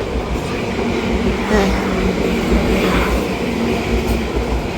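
A small passenger train rolls past steadily with a continuous rumble and faint rail clatter, moderately close, with no talking.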